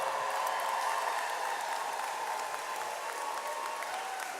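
Crowd at a school back-to-school convocation applauding and cheering, a dense, steady wash of clapping heard from a distance that holds for several seconds with no speech.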